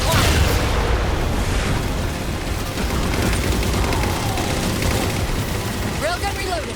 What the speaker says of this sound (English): those phantoms for the railgun to shoot down